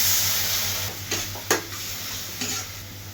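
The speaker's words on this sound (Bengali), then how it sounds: "পেঁয়াজ রসুন ভাজা হয়ে গেছে, এবার জিরা বাটা দিয়ে দিব।" Cumin paste hits fried onion and garlic in a hot pan, producing a loud, close sizzle, with a few stirring scrapes and a sharp hiss burst partway through.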